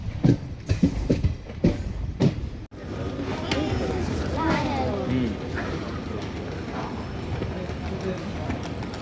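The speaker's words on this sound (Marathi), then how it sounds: "येस, आम्ही चाललो आहे ट्रेनने" An Indian passenger train bound for Thivim station, Goa, rolls along its rails with a steady rumbling clatter, following a few short knocks and voices at the start.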